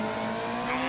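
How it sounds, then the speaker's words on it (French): Rally car in Colin McRae Rally on PC, driven at full throttle on the Sweden stage: a steady, droning engine roar holds high revs with a sustained tonal whine and faint tyre hiss, close and continuous throughout. "On met l'accélération maximale évidemment pour sortir mieux des courbes."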